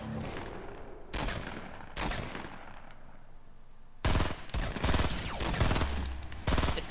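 Bursts of rapid automatic gunfire ring out in a Fortnite match, loud and close. Several short volleys come first with pauses between them, then a longer stretch of sustained firing, with no talk over it.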